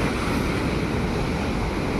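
Rough, muddy sea surf washes steadily against the seashore in bad, windy weather, a continuous broadband roar with wind buffeting, no voices.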